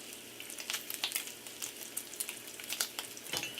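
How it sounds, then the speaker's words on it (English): Bacon strips sizzle and crackle in a hot frying pan, a steady close hiss with rapid popping spatters throughout the short stretch. "You don't want to over fry your bacon."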